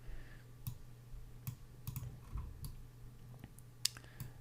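Quiet, sparse clicks of a computer mouse while working in Rhino3D, a handful of short sharp taps spaced irregularly over a steady low hum, no talking.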